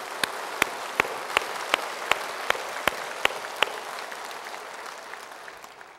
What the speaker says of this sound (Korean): 우리 영광의 박수를 한번 주님 앞에 올려드리겠습니다